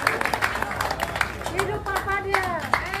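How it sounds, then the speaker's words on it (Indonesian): Audience applause at a thanksgiving ceremony in Gorontalo, a short burst of scattered clapping from a crowd with background murmur and voices over it. "Tepuk tangan buat Lamau."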